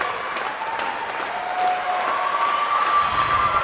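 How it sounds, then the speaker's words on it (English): Crowd at a college gymnastics meet clapping along during a floor routine, a steady wash of applause and cheering from the stands throughout. "And now the fans in the crowd are kind of giving her the claps to help her dance and move along this routine."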